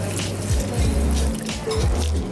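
Water poured from a container into a cast iron dutch oven of tomato and chicken stew base, a steady close trickling splash with brief pauses, no talking.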